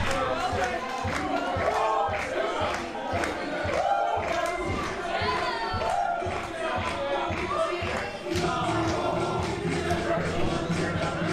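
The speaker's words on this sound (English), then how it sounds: "You hear the crowd getting behind Timmy Jackson." Wrestling crowd roars and cheers steadily for Timmy Jackson as he beats on Kurt Busse at a Black Friday show, a dense, loud wash of voices with rhythmic chanting pulses throughout.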